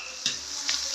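Curry leaves, rampe and onions sauté in a pan for a Jaffna chicken curry, a soft continuous sizzle broken by two quick scraping stirs of a spoon.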